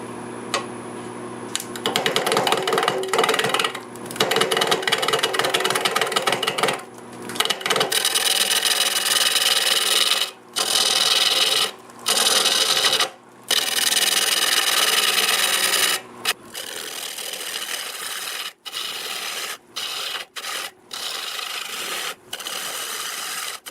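A wood lathe spins at around 600 RPM while a large natural-edge black locust bowl is turned. Loud rasping cutting noise comes in bursts, broken by short silent gaps.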